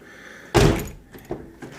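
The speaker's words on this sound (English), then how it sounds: "We're going to test the door handle itself to make sure that it functions." The door handle of a Toyota Tacoma being worked during a repair: one loud, sharp latch clunk, then a softer click a moment later, close up in a quiet space.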